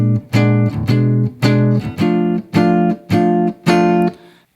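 First three bars of a 12-bar jazz blues in F, played as a sequence of sustained harmonic chords, about eight loud chord strokes in a steady even rhythm, alone without talk, ending with a decaying release.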